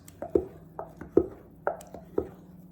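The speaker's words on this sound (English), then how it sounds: "It says stir, not mix. So that's why I'm using my wooden spoon." A wooden spoon stirs pumpkin pie mixture in a bowl, giving about seven soft, hollow knocks in a loose rhythm, close and fairly quiet.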